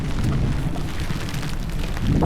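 Steady heavy rain in a thunderstorm over a rural farm plot, with low rolling rumble from thunder filling the background throughout, loud and continuous with no voices.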